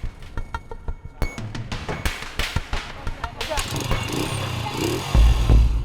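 Motorcycles with vaccine carriers tied to the back ride along a rough, broken mountain road, their engines rumbling and revving close by amid bumps and rattles, with voices talking over them.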